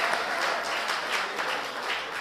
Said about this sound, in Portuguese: Um aplauso para a Marina.